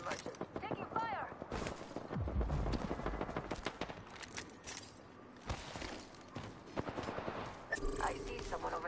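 Weapons fire in the Apex Legends battle royale game, with sharp rapid bursts and single shots crackling at varying distances amid footsteps and in-game effects, while a player talks over it.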